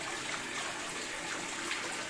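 Small fountain water trickling steadily into a home fish tank, a soft continuous splashing and bubbling heard close and fairly quiet throughout, with no voices.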